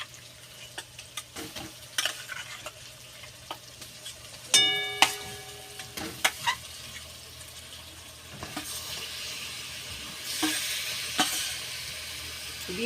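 Masala-marinated chicken pieces go into a pan of well-cooked spiced masala with oil separated, for chicken do pyaza; a sharp burst of sizzling starts midway, then settles into steady frying with occasional stirring clinks.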